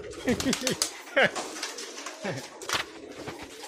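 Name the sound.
pigeon cooing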